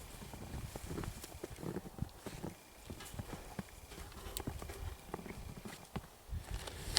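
A horse walks over to a rail before a hoof trim, its hooves clip-clopping in an uneven series of close knocks amid light wind.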